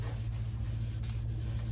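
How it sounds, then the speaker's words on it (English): Wet sanding of primer on a 1966 Lincoln car body: a steady, even abrasive rubbing with a low hum underneath and faint rhythmic strokes repeating about every half second, close up with no talk. "you just keep wet sanding it and wet sanding it until it's nice and smooth"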